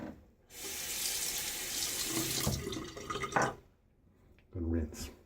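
Water running from a tap to rinse a razor during a shave, a steady close hiss that tapers off, followed by a short splashy burst.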